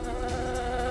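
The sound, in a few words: honeybees buzzing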